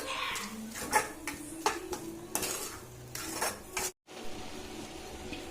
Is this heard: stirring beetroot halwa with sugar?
yes